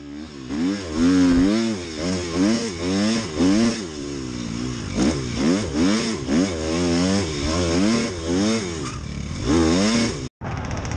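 An enduro dirt bike tears over whoops on a sprint enduro course, its engine revving up and down in quick repeated surges, loud and close throughout with a brief cut near the end.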